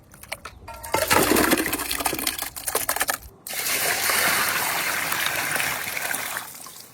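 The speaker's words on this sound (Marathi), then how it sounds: "आपण आता कपुरे व्यवस्थित धुवून घेऊ स्वच्छ पाण्याने।" Kapure being washed in clean water, close splashing and sloshing with bursts of clattering at first, then a steady stream of running water that continues to the end, with no voices.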